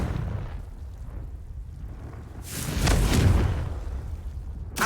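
A blasting spell goes off in a wizard video game, a muffled boom swelling into a broad rumbling burst midway through, then fading back into low background noise.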